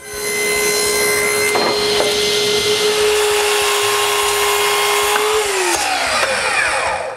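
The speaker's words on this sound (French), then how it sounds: "Ensuite, je coupe l'intérieur de toutes mes cadres." A power saw cuts the inside of wooden frames in a workshop, holding a steady high whine for several seconds before the pitch drops as the cut finishes. Faint rubbing sounds run beneath it.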